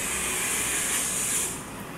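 Dried chilies, cumin seeds and a split bay leaf frying in hot oil, a dense continuous sizzling hiss, loud and close, easing slightly toward the end.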